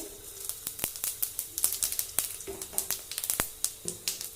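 Whole garam masala spices crackle and sizzle in hot oil for a tempering in a vegetarian festive thali recipe, a steady bright fizz punctuated by frequent sharp pops, close and alone with no voices.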